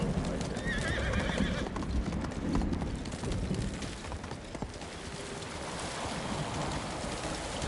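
In the video game Ghost of Tsushima, hooves clip-clop as a horse moves off and whinnies, mixed with a rushing, watery background, fairly loud and continuous.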